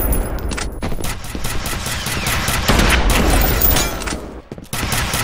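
Gunfire in the video game F.E.A.R., a loud dense barrage of rapid automatic shots with heavy booming impacts, nearly continuous with a few brief gaps.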